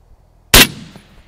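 A suppressed .338 Lapua AR shot, one sharp loud crack followed by the fading ring of a distant steel target, after near silence.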